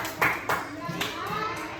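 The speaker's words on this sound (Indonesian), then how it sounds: "Tepuk tangan untuk teman-teman." A group of primary school children in a classroom clapping in a few short bursts, with a teacher and children talking over and around the claps.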